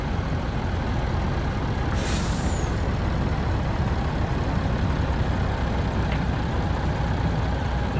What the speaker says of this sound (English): the winch to turn on, but the engine of the truck has to be on too